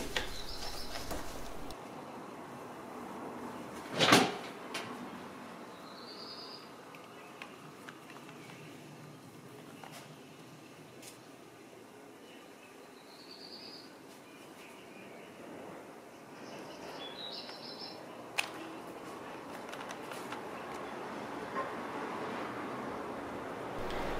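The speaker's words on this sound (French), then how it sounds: "je vous laisse le chant des oiseaux" Birds sing outdoors in bright sunshine, a few faint high calls scattered over a steady hum of distant traffic, with one sharp knock early on.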